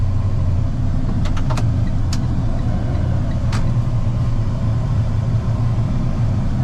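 A box truck rolls through road traffic with a steady, loud low engine and road rumble, broken by a few faint clicks and rattles.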